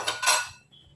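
A metal lid is set onto a cooking pot of jackfruit curry, making two quick clanking knocks close by that ring briefly and then fade into quiet.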